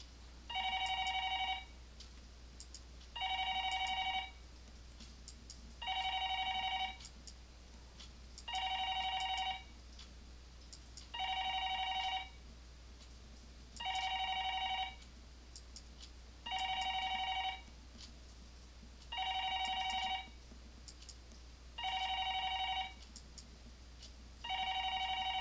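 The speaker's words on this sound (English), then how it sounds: "that phone just keeps on ringing" A telephone rings over and over in the visual novel game Higurashi When They Cry, about ten evenly spaced electronic trilling bursts with short pauses between, steady and clear over a low constant hum.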